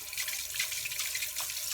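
Cold tap water runs steadily into a bowl while fresh farm butter is rinsed of buttermilk, a continuous close hiss and splash with no talking.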